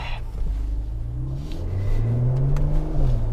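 Mercedes-AMG C43 V6 driven hard in Sport Plus mode, its engine revving up with a rising, loud rumbling tone that climbs steadily over a few seconds, heard from inside the car with no talking.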